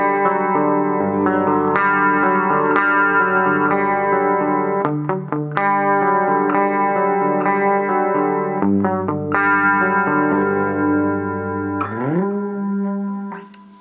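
Electric guitar played through a Mooer GE100 Pro Li modelling pedal, using a custom Strat's humbucker, sounds a run of distorted, effects-laden chords and riffs with chorus and reverb, ending on a sustained bend.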